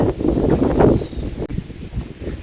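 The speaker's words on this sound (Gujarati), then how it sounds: "ઠંડી એવી લાગે છે જોરદાર પવન હપજ છે" Strong cold wind blows across a farm field, buffeting the microphone with loud, continuous, gusty rumbling and rustling that rises and falls without any break.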